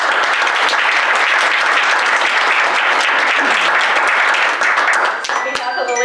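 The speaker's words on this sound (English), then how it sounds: "Let's give a round of applause." An audience at a League of Women Voters candidate forum in Forks, Washington, breaks into dense, sustained applause that stays loud and even before tapering slightly at the end.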